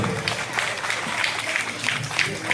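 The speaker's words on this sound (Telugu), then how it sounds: "ఒక్కసారి గట్టిగా చప్పట్లు" Audience applause at a school Ganesh festival skit celebration, a steady wash of scattered clapping from a crowd, moderately loud and sustained with faint murmuring underneath.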